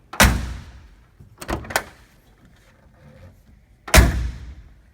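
Two heavy door slams from a 1967 Ford Econoline van, one early and one near the end, with quieter clunks and rattling between, close by and sharp.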